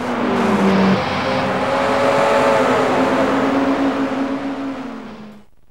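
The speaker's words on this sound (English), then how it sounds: "We managed to reproduce wind noise this time and road noise, the sound of the tires moving across the road surface." Race car engine from Gran Turismo 3 droning steadily with tonal whine shifting in pitch, layered over broadband tire road noise and wind, loud and continuous before fading out at the end.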